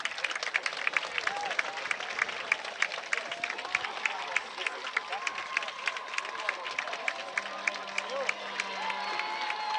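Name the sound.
football crowd cheering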